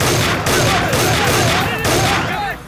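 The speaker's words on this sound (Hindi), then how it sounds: "अरे लेकिन तू फायरिंग क्यों कर रहा है?" Sustained loud gunfire fills a film scene, with a dense fusillade of overlapping shots and rattling bursts running continuously under music-like tones.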